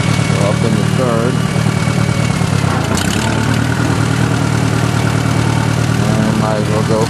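A 1965 Case 430 tractor engine runs steadily and loudly while gears are shifted, a constant close-up mechanical drone with slight changes in tone and a short clunk midway.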